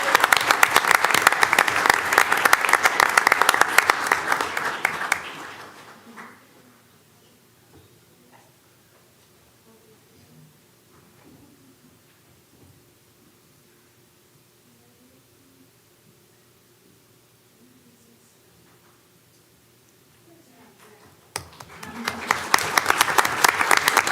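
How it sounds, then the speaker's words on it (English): A school board meeting audience applauds a graduate receiving a high school diploma: loud, sustained clapping opens the clip, fades into several seconds of near silence, then swells back strongly at the end. "let's give a big round of applause"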